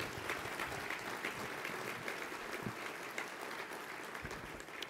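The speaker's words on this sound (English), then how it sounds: "Give him a round of applause." A gala audience applauding after a speaker asks for a round of applause, a steady, fairly faint crowd clapping heard from a distance with no talking over it.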